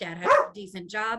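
A dog barks once, sharp and close, cutting into a person's speech, with the talking continuing around the bark.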